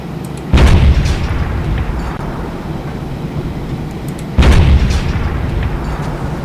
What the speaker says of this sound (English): I want to see if an airstrike can take him down.